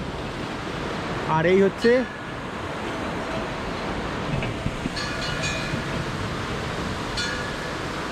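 River water in high flow rushes beneath a bridge on a Himalayan trek in Uttarakhand, a broad, steady roar close by, with a brief voice speaking over it early on.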